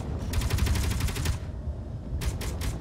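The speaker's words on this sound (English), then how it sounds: "Oh, it's shooting me, but I'm shooting it too." Rapid automatic gunfire rattles in two bursts, a long steady stream then a shorter choppy volley, as a player trades shots with an enemy turret in Space Engineers.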